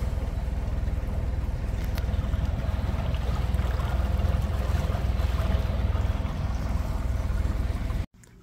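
A narrowboat engine runs nearby with a steady, rhythmic low diesel rumble and chug that carries on evenly and then cuts off sharply at the end.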